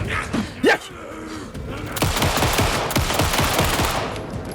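Rapid automatic gunfire in Alan Wake 2 rattles out in a long, steady run of close, loud shots, preceded by a brief voice and a few scattered sounds.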